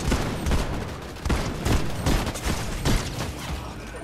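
Rapid bursts of gunfire ring out in the video game Fortnite, several close, loud volleys of shots in quick succession with short gaps between them.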